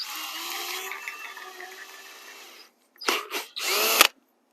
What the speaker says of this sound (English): let me drill this out